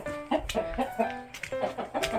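Several chickens cluck in short, overlapping bursts close by, a busy and steady barnyard chatter with no talking.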